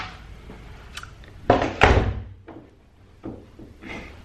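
A door thuds shut with a couple of solid bangs, followed by softer clicks and rattles as it is locked, heard close up with no talking.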